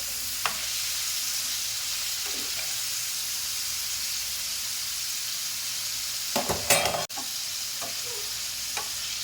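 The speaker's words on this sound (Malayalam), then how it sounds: "അതിലേക്ക് നമുക്ക് ഉപ്പിട്ട് കൊടുക്കാം നമുക്ക് മിക്സാക്കി കൊടുക്കും" A prawn roast is stirred with salt in a hot pan, a steady close sizzle running throughout, with a few scraping spoon strokes and a short cluster of clattering stirs near the end.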